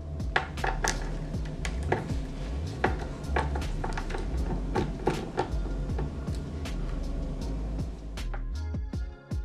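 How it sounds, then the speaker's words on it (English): A Phillips screw is backed out of a PS4 Slim console, giving sharp repeated metallic clicks and small scraping ticks up close, a fairly busy run of taps and rattles with no talking. "First, we have to unscrew this Phillips screw located here."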